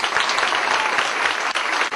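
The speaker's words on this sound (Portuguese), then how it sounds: "Vamos receber a Daniele com as palmas bem forte." A church congregation at an afternoon worship service claps loudly and steadily in dense, sustained applause, with only faint crowd murmur beneath it.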